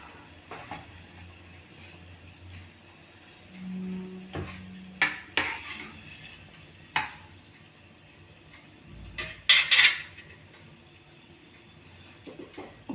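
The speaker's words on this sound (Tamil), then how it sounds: "நாலு கரண்டி தேங்காய் பூ போடுறேன்" Grated coconut spooned into a pan for raw rice uppuma, with several sharp metal ladle clinks and scrapes against the pan amid quiet kitchen clatter, alone with no talk.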